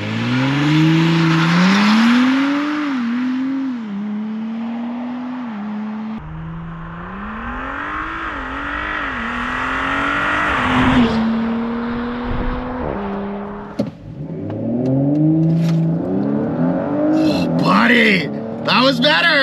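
An Audi B9 S4 with a Stage 1 E85 tune revs up and accelerates hard on a quarter-mile launch, pitch climbing in repeated surges with gear changes, loud and close, with a person talking over it.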